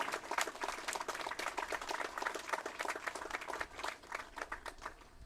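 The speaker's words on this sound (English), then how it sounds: "How about a round of applause for the facility?" A small crowd claps at a youth sports championship awards gathering, distinct individual claps in a quick irregular patter, fairly faint and distant, with no speech.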